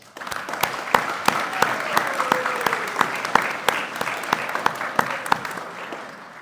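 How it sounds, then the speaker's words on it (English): Students at a school athletic and academic awards ceremony applaud, with distinct sharp claps ringing out over a softer bed of clapping and some background chatter. "Can you give yourself a round of applause?"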